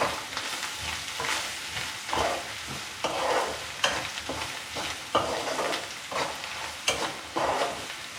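Biryani masala fries in a pan after coriander powder goes in, a continuous close sizzle broken by regular scraping stirs of a spoon against the pan, with no talking.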